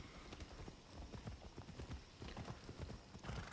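Horse galloping in the video game Assassin's Creed Odyssey, rapid rhythmic hoofbeats clip-clopping continuously at close range, fairly faint.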